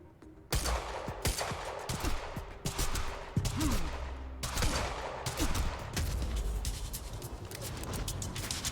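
SMG gunfire in Quantum Break, rapid repeated bursts firing nearly nonstop at close range, with brief gaps between strings of shots.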